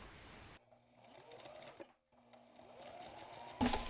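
A sewing machine stitches the bodice of a Santa Witch costume in a steady, fast, close hum. The run breaks briefly around the middle, then resumes and ends with a short louder burst.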